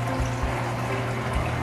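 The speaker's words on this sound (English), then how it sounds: "Notice up top, all the water is pouring in." Water pours steadily and continuously into a reef aquarium, a full rushing splash with a bubbling churn underneath, close by and without pause.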